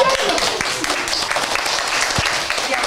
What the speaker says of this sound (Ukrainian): Давайте оплесками.